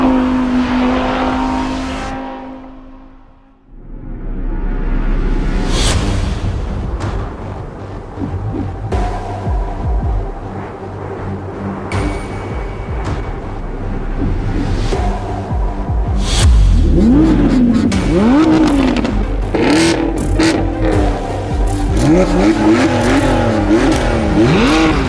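Sports cars with a naturally aspirated V10 screaming toward 9,000 RPM launch down a drag strip, a loud sustained roar of rising engine whine with gear changes and climbing revs that builds steadily and stays close, without voices.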